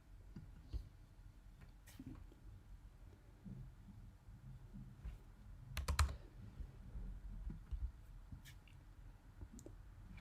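Keys on a computer keyboard are pressed in sparse, quiet clicks. There is a close burst of several presses near the middle, all set over a faint room hum.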